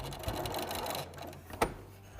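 Sewing machine stitching fabric for a spring banner, a steady close mechanical whir of needle strokes that stops briefly before a faint knock.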